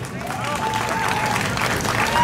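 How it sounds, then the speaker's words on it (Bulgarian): A crowd applauds at the ceremonial start of Rally Bulgaria 2017, with steady, dense clapping that swells slightly toward the end and a voice faintly over it. "Аплодисменти за нашите момчета."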